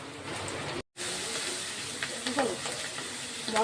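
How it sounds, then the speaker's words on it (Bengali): Spice paste with green chillies fries in a pan with a continuous loud sizzle and hiss, stirring scrapes and clinks breaking through, a brief dropout near the start, no talk. "মশলাটা আমার ভাজা হয়ে গেল।"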